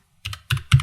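Three quick, close keystrokes on a Mac keyboard while a terminal command is typed, crisp and isolated against silence.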